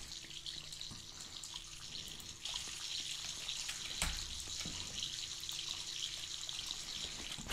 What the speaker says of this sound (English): Should I leave all the water running?